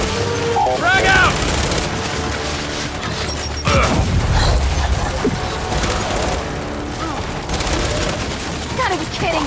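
A frag grenade explodes in Gears of War 5 amid heavy game combat: a deep, booming blast rises out of continuous gunfire and mechanical clatter, with shouted voices mixed in.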